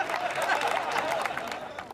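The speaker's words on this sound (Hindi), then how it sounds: "और ये उन्हीं लोगों ने ताली बजाई है जो मेरी तरह है" An audience at a comedy poetry show claps and cheers together, a dense steady burst of applause that fades out at the end.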